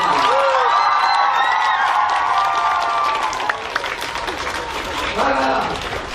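A crowd of YouTubers bursts into loud applause mixed with cheers and whoops, the clapping continuing for several seconds while voices call out over it.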